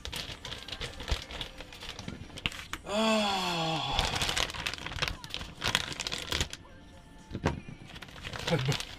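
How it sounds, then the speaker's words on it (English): Plastic bag 2 of parts from an Axial SCX10 II raw builder's kit is opened: a short burst of crinkling and tearing plastic amid scattered clicks and handling noises, with a brief spoken exclamation. "Time to open plastic bag 2."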